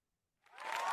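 Applause from a crowd swells up from silence about halfway through, growing loud and steady to the end, with no voices over it.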